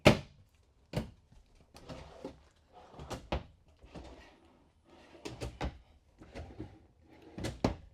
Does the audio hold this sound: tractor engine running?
no